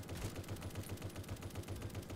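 Rapid automatic gunfire from the video game A.W.O.L, a steady stream of regularly spaced low-pitched shots lasting throughout at moderate loudness, with no talk over it.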